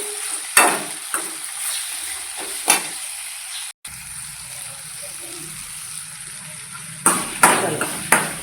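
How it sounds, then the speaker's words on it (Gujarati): Vegetable curry with tomatoes and garlic chutney is stirred in a pan: a steady soft sizzle runs throughout, broken by a few sharp spoon scrapes and knocks near the start and a cluster near the end. "તેમાં નાખી દઈએ લસણવાળી ચટણી પછી બધું મિક્સ કરી દઈ"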